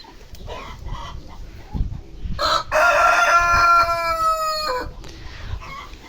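A rooster crows once, a long, loud cock-a-doodle-doo rising and holding before trailing off, with faint rustling around it.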